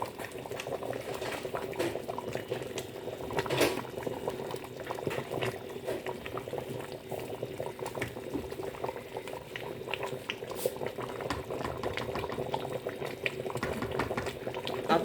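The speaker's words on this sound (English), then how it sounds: "I'm going to stir." A pot of egusi soup bubbles at a low simmer and is stirred, with soft continuous bubbling and occasional scrapes and clicks. The sound stays faint and even throughout.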